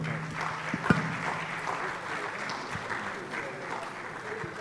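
Steady audience applause for the panelists at a public lecture on mental health, a dense continuous patter of many hands in a hall, with a brief louder clap near the start.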